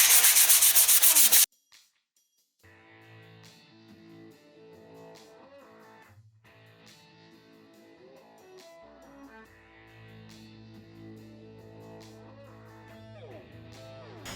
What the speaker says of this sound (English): hit it with a light sanding of 400 grit sandpaper